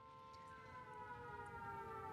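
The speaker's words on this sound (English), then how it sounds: "that's a siren." A siren in an anime episode wails with a steady, sustained tone, faint and distant, with no talk over it.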